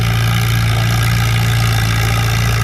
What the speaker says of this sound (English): That old Super C right there, throaty as can be.